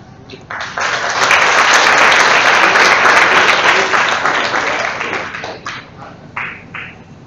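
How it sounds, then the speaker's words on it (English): A large audience at a university graduation ceremony applauds loudly and steadily for several seconds, then the clapping thins out into a few scattered claps at the end. "You finally got them to applaud in the right way"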